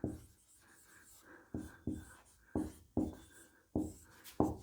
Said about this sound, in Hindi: तो उदय शंकर जी के बारे में लिखेंगे